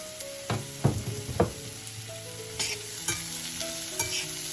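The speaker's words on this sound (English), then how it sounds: "I'm just going to continue to stir this until the onions are translucent" Onions frying in a pan for vegan cauliflower fried rice, stirred with a spatula: a soft steady sizzle broken by several sharp scraping knocks, close and alone without talk.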